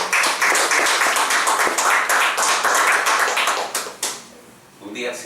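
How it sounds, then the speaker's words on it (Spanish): An audience clapping for the Lord at a Christian home service, a dense sustained round of applause that thins out near the end, with voices mixed in. "Bueno, de un aplauso al Señor."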